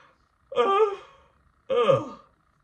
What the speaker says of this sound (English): what's with these yawns?